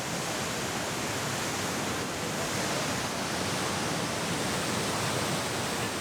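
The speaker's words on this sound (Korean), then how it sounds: "크고 작은 계단식 물줄기의 길이가 무려 3km에 이르는 거대한 다탄라 폭포" Datanla waterfall in Vietnam, a long series of tiered cascades, roars as a continuous broadband rush of falling water, steady and enveloping throughout with no voices or breaks.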